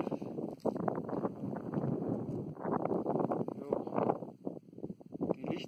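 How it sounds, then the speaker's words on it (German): Strong gusting wind roars and buffets high on Mexico's Orizaba volcano, rising and falling in loudness, close and rough with a faint whistle on top. "Jetzt pfeift hier echter Wind."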